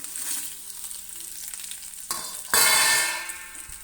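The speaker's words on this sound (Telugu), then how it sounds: "ఇప్పుడైతే ఎండుమిరకాయలు వేద్దాం" Dried red chillies dropped into hot oil for ginger chutney, a steady hiss of frying that bursts into a louder, brighter sizzle partway through, with light stirring.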